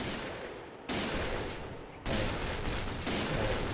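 Gunfire rattles in the Point Blank shooter game in dense, loud automatic bursts that come in three or four sustained blocks, each starting abruptly and running with no speech over it.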